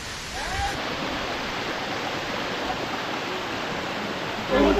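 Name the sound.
waterfall rushing water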